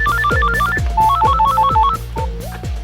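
A telephone rings on speakerphone with a repeating electronic ringtone: stepped melodic beeps over a steady pulsing pattern, loud and continuous throughout with no talking.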